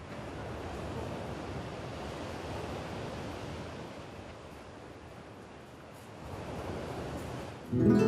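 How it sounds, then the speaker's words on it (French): Sea waves on the coast of Majorca in April, a soft continuous wash of surf with gentle swells, fairly distant and mixed with light wind, ending in a brief louder gust. "Malheureusement, en avril, la mer est encore trop froide pour se baigner."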